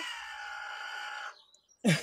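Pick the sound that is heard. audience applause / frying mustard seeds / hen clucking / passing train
hen clucking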